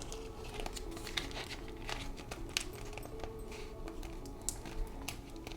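Zipper cash envelopes stuffed with bills being handled close up, a soft run of crinkling, rustling and small clicks and ticks, fairly quiet with no talk.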